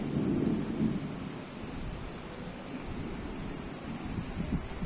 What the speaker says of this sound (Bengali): খুব বৃষ্টি হচ্ছে কিন্তু